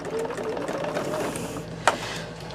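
A sewing machine runs with a steady, close mechanical whir throughout, broken by one sharp click shortly before the end.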